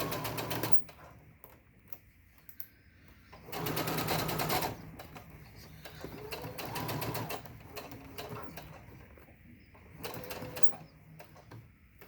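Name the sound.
sewing machine stitching a face mask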